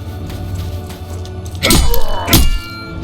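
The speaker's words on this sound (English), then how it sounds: "Now perform a quick attack flurry on the Legionnaire by executing 3 quick attacks in rapid" Melee weapon blows land on a Legionnaire in the Savage 2 game as a quick attack flurry, with two heavy thudding impacts and crunching swipes standing out loudly over a low rumbling background.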